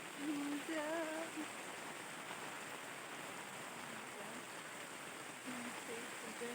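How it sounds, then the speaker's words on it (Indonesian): Steady rain falling in a mountain village, a dense continuous hiss close around, with faint voices briefly audible near the start and end. "suasana hujan"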